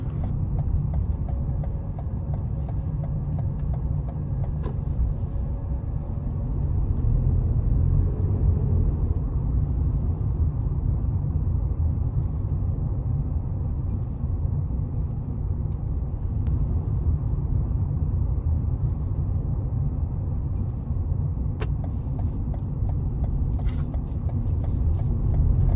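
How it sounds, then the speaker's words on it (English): A car driving in Sweden toward the E6 Malmö motorway, steady low engine and road rumble from inside the cabin, continuous and even throughout. "I will drive to the E6 Malmö motorway after turning to the left, so I will stay on the left lane."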